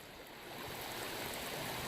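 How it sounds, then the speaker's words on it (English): A flowing stream by a bridge near a bush campsite in the morning, a steady, close rushing wash of water that swells slightly and runs alone without any talk. "The morning water source."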